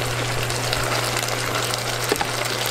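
Rice being washed under running water at a home kitchen sink, a steady close gush of water that runs throughout with a faint low mechanical hum beneath it.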